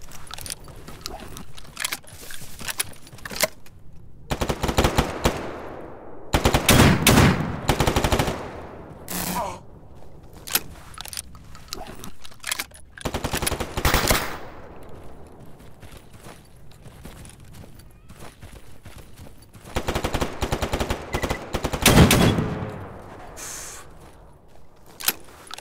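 Gunfire in the Stalker GAMMA video game, with several loud bursts of automatic shots between quieter stretches of faint rattling and movement.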